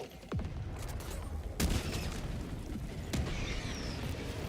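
Grenade blast in the Helldivers 2 video game, a loud broadband boom near 1.6 s with a second burst near 3.2 s over a constant din of battle gunfire and rumbling.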